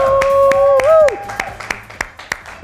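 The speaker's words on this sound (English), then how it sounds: "One little clap." A small studio crew claps with no audience present, sparse individual hand claps spaced out in a loose rhythm, following a sustained sung note at the start.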